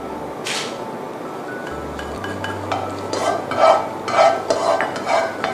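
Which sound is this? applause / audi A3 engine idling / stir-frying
stir-frying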